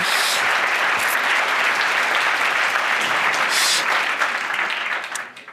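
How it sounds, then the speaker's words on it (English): Warm, steady applause from a conference audience welcoming a speaker to the stage, a dense full crowd clapping loudly and evenly before tapering off at the end. "give him a warm applause, a warm welcome"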